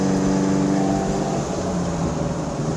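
A 1976 Alfa Romeo GTAm track car drives along in fourth gear, its engine a loud, steady mid-pitched drone with a slight dip in pitch partway through, no voices over it.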